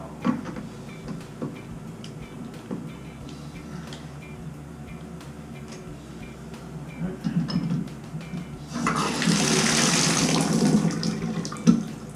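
Water from a Moen single-handle faucet with low hot-side pressure gushes in loud and close after a stretch of quiet ticking and faint background talk, then runs steadily to the end.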